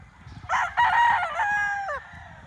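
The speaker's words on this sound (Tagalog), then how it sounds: "Yan ang mga manok ng Wild Creek." A rooster crows close by at a gamefarm, one loud drawn-out cock-a-doodle-doo that rises and then falls off at the end, with quieter chickens faintly in the background.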